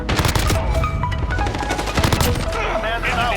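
CR-56 AMAX assault rifle fire in a first-person shooter game, loud and close, with dense rapid bursts running almost without a break and some speech mixed into the game sound.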